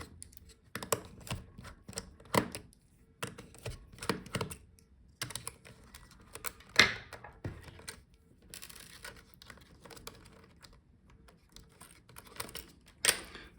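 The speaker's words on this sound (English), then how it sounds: "Now I will take out all the screws for the motherboard." Screws being backed out of a Dell Precision 3560 laptop motherboard with a small driver, a string of light, close clicks and scrapes in short irregular bursts separated by brief pauses, with no talking.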